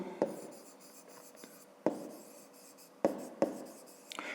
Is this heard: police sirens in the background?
no